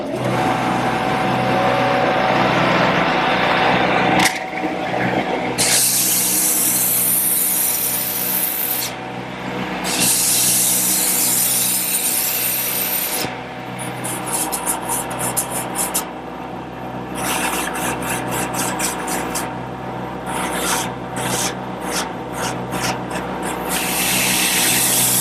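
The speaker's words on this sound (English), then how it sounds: "Now with the blank still in the lathe, it's a snap to do the sanding." Sandpaper rubs against a wooden table-leg blank spinning on a lathe, working from 80 to 180 grit, with a continuous motor whir beneath a rasping, shifting friction that breaks into rapid pulsing strokes toward the end.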